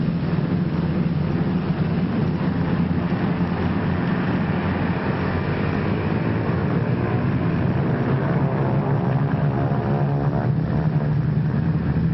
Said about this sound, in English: More than a score of United States Liberators warm up for the takeoff from a field somewhere in North Africa.